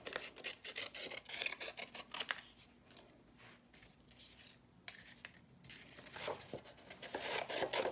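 Birch tree branches trimmed for a craft, with a close, quiet run of repeated snipping clicks and rustling twigs, pausing briefly midway before more rapid cuts resume.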